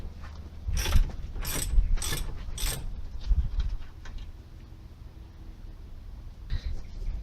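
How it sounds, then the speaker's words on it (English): An impact bar works loose a corroded brake caliper bolt on a Toyota Avensis 2.2 diesel, producing a close run of four sharp metallic cracks followed by quieter ratcheting and clunks, with a person talking at times. "Now take your impact bar"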